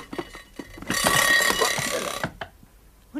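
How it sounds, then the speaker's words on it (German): A puppet-film alarm clock rings in one loud continuous metallic burst of about a second, surrounded by clattery mechanical ticking and knocks. "Also ich wünsche, dass mein Wecker wieder zum Vorschein kommt."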